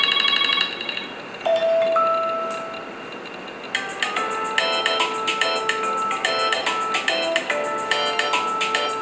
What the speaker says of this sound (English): Click on a few ringtones to test.